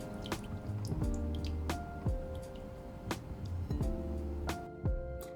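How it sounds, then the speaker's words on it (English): Egg and low-fat milk whisked in a bowl, producing wet, rhythmic clinks and sloshing drips at an uneven pace, close by with no talking. "Whisk until smooth."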